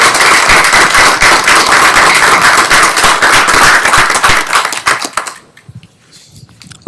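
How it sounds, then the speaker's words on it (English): Loud, crowded applause from a tech-talk audience for a panel on data and AI, thick continuous clapping for about five seconds that then stops abruptly, leaving a quiet room. "Let's give it up a round of applause."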